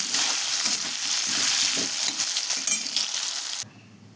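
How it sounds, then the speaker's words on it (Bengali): Potatoes with turmeric and salt fry loudly in a pan, a steady close sizzle with a few light scraping and clinking stirs, ending abruptly in near silence. "আলুটা বসিয়ে একটু হলুদ দিয়ে দিলাম লবণ দিয়ে দিলাম আলুটা একদম লাল লাল করে ভেজে নিই"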